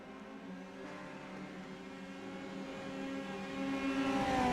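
Race car engines in the iRacing video game rev up together at an oval restart in a TNT All-Oval PM-18 Series race, a steady droning roar with rising tones that grows louder toward the end.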